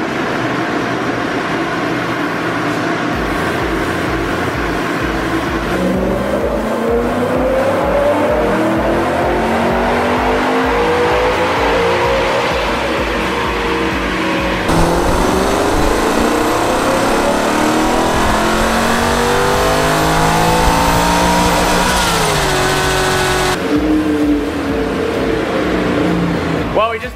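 Supercharged BMW M5 engine on a dyno, revving loudly and continuously with rising and falling pitch sweeps as it climbs through the gears, close and dominant throughout.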